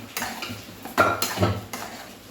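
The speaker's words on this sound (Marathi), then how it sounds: "चांगलं मिक्स करून घ्यायचं आहे म्हणजे सर्व मसाले अख्ख्या मसूरमध्ये मिक्स होतील" A spoon scrapes and clinks against a pan while whole masoor lentil curry is stirred, giving a few close, distinct metallic knocks and scrapes with short pauses and no talk.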